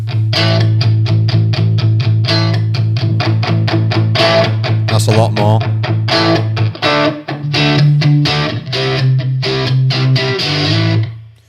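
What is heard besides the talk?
electric guitar through overdrive amp effect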